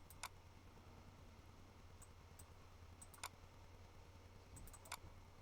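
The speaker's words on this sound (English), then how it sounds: "Sorry, you're hearing clicking in the background." Computer mouse clicks sounding in the background while folders are browsed, a few sharp isolated ticks spaced irregularly over a faint steady hum.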